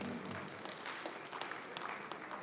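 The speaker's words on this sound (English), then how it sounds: "A round of applause for her" An audience at an award ceremony applauds with dense, continuous clapping at a steady level throughout the brief moment.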